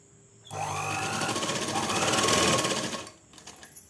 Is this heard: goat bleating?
no